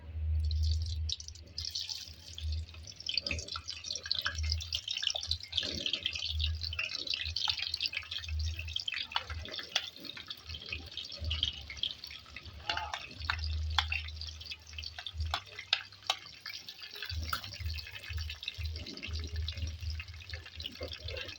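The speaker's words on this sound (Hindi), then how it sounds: "ऑयल हमारा गर्म हो चुका है, अब हम इसमें प्याज शामिल करेंगे।" Sliced onions frying in hot oil for a dhaba-style chicken and potato curry, with a steady, close hiss and crackle throughout and a low hum underneath. No one speaks.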